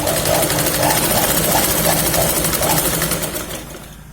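A sewing machine stitches fabric for a Punjabi salwar suit, whirring in a rapid, even, loud rhythm with no talk, then trailing off at the end.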